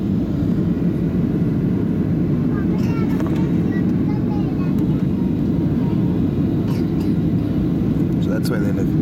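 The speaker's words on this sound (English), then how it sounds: "plane's almost landing." Steady, loud cabin roar of a Jet Airways Boeing 737-800 landing at IGI Airport in New Delhi, a dense low rumble that never lets up, with faint voices underneath.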